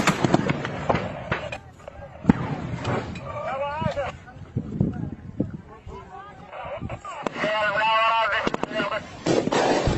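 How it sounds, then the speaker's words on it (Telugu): Footage of a blast attack on a Pakistan army convoy: repeated sharp bangs and crackling bursts spread across the clip, mixed with shouting voices and a whining, rising tone in places. "ఒకసారి అక్కడ బ్లాస్ట్ ఎలా జరిగింది"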